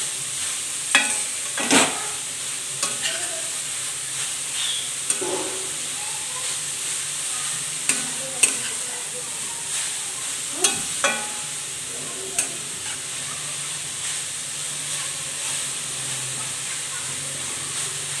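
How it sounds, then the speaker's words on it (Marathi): Carrots sautéed and stirred in a pan for halwai-style carrot malai barfi: a steady close sizzle and hiss, broken by sharp scraping clicks of the spoon at irregular intervals. "छान असं हे गाजर आहे ते परतून घ्यायचं आहे"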